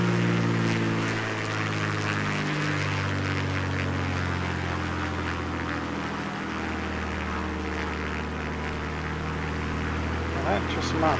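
A Yakovlev Yak-9 piston fighter in Microsoft Flight Simulator 2020 drones steadily as its engine holds power, and the deep propeller hum dips briefly twice. Someone talks over it off and on.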